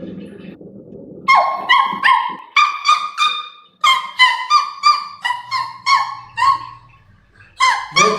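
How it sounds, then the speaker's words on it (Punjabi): A dog barks close by and loudly in a rapid series of about a dozen harsh, evenly spaced barks in bursts, with short gaps between them. "ਵੇ ਕੁੱਤੀ ਭੌਂਕਦੀ, ਵੇ ਕੁੱਤੀ ਭੌਂਕਦੀ"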